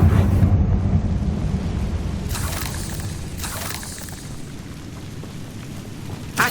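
A Confringo fire spell explodes in Hogwarts Legacy with a deep rumbling boom that swells and rolls on, while bursts of crackling hiss flare up over the sustained low roar.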